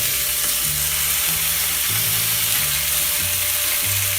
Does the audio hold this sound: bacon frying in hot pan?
yes